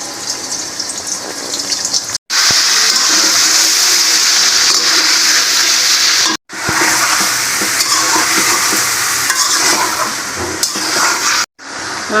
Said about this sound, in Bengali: পেঁয়াজ বেরেস্তা ভাজার তেলে আমি মাংসটা ভেজে নেব